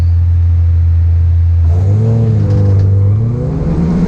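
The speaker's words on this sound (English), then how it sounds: "Revs rising." A loud Hyundai Coupe race car engine idles steadily on the starting grid, then revs up sharply and holds at a higher pitch, close and dominant.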